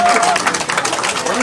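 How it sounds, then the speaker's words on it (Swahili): Congregation at a funeral service clapping their hands, dense continuous applause throughout a short burst, close and loud. "Hebu pigia Yesu makofi."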